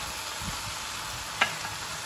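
Yellow egg noodles from Nakhon Si Thammarat tossed with soy-sauce seasoning in a hot pan give a steady close sizzle, with one brief utensil scrape partway through.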